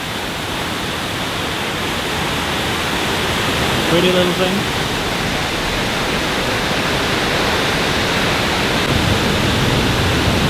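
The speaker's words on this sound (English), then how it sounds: "It is Moelva waterfall." Moelva waterfall in Norway roars as a steady, loud broadband rush of falling water that continues unbroken throughout, with someone speaking briefly over it.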